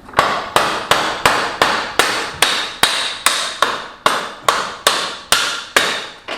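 A wrench taps repeatedly on a stuck dirt bike wheel axle, about twelve sharp metallic knocks in a steady rhythm, each ringing briefly before the next, close and loud with no talking.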